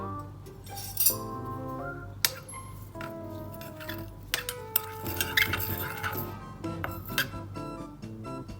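A metal spoon clinks and scrapes against a bowl while mixing dark soy sauce, tomato ketchup and salt, giving a run of light irregular taps and rings, close and fairly quiet, with no talking.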